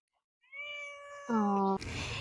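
A cat meows close by, a drawn-out high call that rises and then breaks into a louder, harsher second cry.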